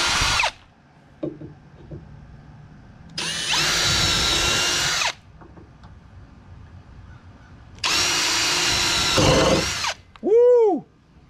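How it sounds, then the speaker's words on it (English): A power drill drives screws into wood while building a deer stand: two sustained whirring bursts of about two seconds each separated by quiet pauses, then a short rising-and-falling rev at the end, close and loud. "I figure I'll drill the other ones after I get these first 2 screws in."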